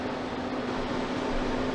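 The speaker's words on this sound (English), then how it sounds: "The freeze dryer has been pre-cooling for quite a while now while I process the meat." Freeze dryer running while pre-cooling, a steady mechanical hum with a constant tonal drone and broad whooshing noise, even and unchanging, no voices.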